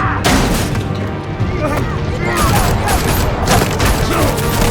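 Police gunfire in the Batman Telltale video game, dense bursts of shots and booms over a loud busy game soundtrack, with a voice talking over it.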